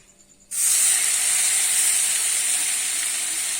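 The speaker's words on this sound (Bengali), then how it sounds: "এবারে আমি দিয়ে দেব পেঁয়াজ বাটাটা।" Onion paste hitting hot oil and ghee in a pan, bursting into a loud, steady sizzle and hiss that starts abruptly and holds without talk.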